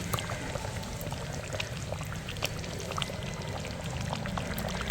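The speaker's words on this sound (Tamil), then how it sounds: "தயிரை ஊற்றிடணும்." Yogurt is poured into a simmering dhaba-style chicken masala, a soft continuous pouring and bubbling sound close by, steady and fairly quiet throughout.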